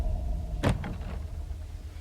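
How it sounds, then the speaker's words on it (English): A door shuts with a single firm thud over a low, steady background rumble, followed by a short fading rattle, heard during a horror movie trailer. "Can you close the door?"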